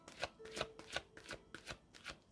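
A deck of tarot cards is shuffled close up in a quiet room, a run of about eight quick, rhythmic riffling bursts evenly spaced. The shuffling is soft and sounds alone.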